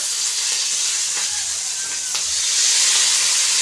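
Tomatoes hit frying potatoes in a pan and set off a loud, steady hissing sizzle that holds throughout and swells slightly toward the end.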